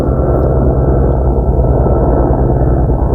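Tour helicopters pass over a wilderness area, producing an unbroken, fairly loud low rumble and drone throughout, with no speech.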